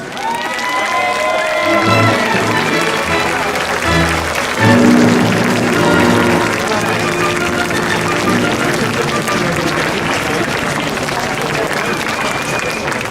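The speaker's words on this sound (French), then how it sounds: "Nous vous demandons une salve d'applaudissements pour Drita et sa famille." Crowd at a rally in support of a woman and her family giving a sustained round of applause, dense clapping mixed with cheering and some voices, swelling slightly midway and then holding steady.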